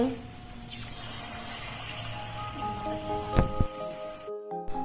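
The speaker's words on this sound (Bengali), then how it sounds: "তেল গরম হয়ে গেলে কোণগুলোকে ব্যাটারের মধ্যে ডুবিয়ে একটি একটি করে ওই গরম তেলে দিয়ে আমি" Battered cone singaras fry in hot oil with a steady, close crackling sizzle and a few sharp clinks near the end, before the sound abruptly cuts to near silence.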